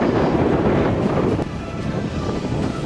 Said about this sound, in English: Trudging through the bog while fighting a brutal headwind